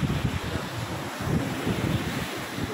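Fairly big ocean waves roll in on the shore under steady, buffeting wind noise on the microphone, a continuous close rushing wash with gentle swells.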